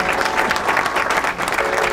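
An audience claps continuously to welcome a popular folk singer onto a village stage, a dense, even burst of applause from a crowd close by.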